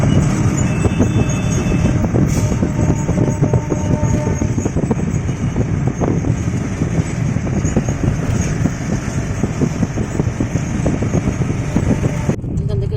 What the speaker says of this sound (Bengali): ওই তো ট্রেন।